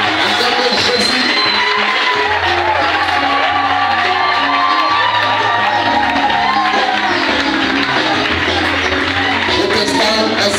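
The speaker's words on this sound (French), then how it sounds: "Acclamez très fort le Seigneur. Acclamez le Seigneur." A church congregation cheers and acclaims the Lord, a loud continuous crowd roar with whoops and shouts sustained throughout, over low rhythmic music.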